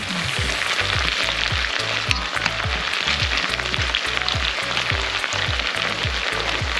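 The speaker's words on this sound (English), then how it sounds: "I stir fry the onions first so that the garlic will not burn" Onions stir-fry in a pan with a loud, continuous hiss, punctuated by regular low knocks and scrapes as the pan is worked, close and with no voices.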